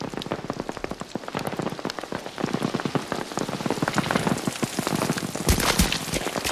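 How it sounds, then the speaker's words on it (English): Steady rain from a Saving Private Ryan (1998) film scene pours down, pattering densely on a surface with sharp crackling drops, close and loud, with a couple of heavier thuds near the end. "Even the rain sounds like, it's blended in with fire"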